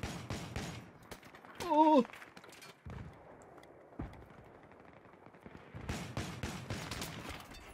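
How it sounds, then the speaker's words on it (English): Gunfire in the Battlefield video game, sharp bursts of shots clustered at the start and end, with a player's brief startled exclamation in the middle. "I'm definitely shooting more than I should because of the ping."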